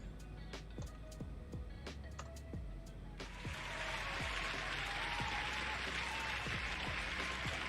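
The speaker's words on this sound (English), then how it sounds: "Did everyone just hear the applause?" An applause sound effect, played as a test, rises a few seconds in as a dense wash of clapping that lingers quietly in the background over scattered sharp clicks and taps.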